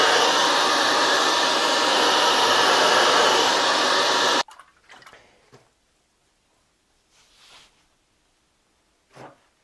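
A hair dryer roars loudly and steadily for about four and a half seconds while drying a watercolour painting of a fishing village landscape, then cuts off abruptly, leaving only faint scattered handling sounds.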